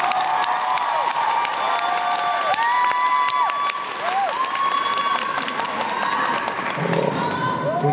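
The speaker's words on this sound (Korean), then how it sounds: "다시 한번 박수 부탁드립니다." Concert crowd applauding and cheering at a show, loud dense clapping throughout, with whoops and shrill cheers rising over it.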